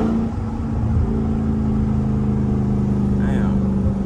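A Dodge Daytona Scat Pack's engine drones loudly and steadily nearby, a continuous heavy rumble with a rising whine near the end; distinct exhaust pops are hard to pick out.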